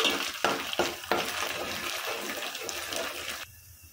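Onion with ginger garlic paste frying in hot oil for a chicken curry: a steady crackling sizzle with a few scraping stirs near the start, cutting out abruptly at the end.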